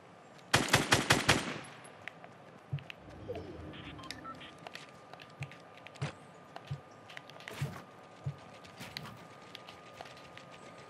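Gunfire in the Fortnite video game, a rapid loud burst of automatic shots at the start followed by scattered single shots and clicky game effects over a low background.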